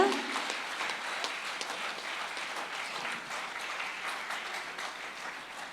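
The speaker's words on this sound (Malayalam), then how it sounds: "അവർക്ക് കൊടുക്കണം നിറഞ്ഞ കൈയടി" A crowd applauds steadily at an award ceremony, a dense wash of clapping that carries on throughout and fades slightly toward the end.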